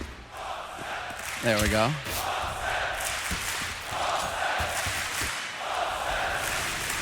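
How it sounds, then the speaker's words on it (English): An arena crowd at a CS:GO esports match, Mousesports vs Godsent at Dreamhack Masters Malmö 2016, chants and roars in the background while a commentator talks over it. "That got the crowd chanting."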